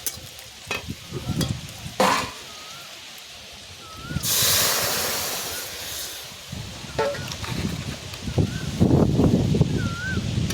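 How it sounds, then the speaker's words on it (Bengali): Dal with fried onions cooking in a pot in a Bengali village kitchen, giving a steady bubbling hiss with stirring and scraping throughout and louder bursts near the end, while voices speak now and then. "ডালটাকে 2 মিনিট ফুটিয়ে নিলেই হয়ে যাবে।"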